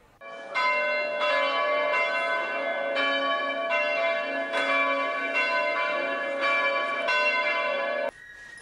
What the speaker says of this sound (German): Mit dem Glockengeläut der evangelischen Stadtkirche in Krötzingen wurden die Besucher aus nah und fern in die